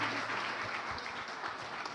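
Steady applause from a sizable church congregation fills the room, a continuous wash of clapping at moderate volume with no pauses.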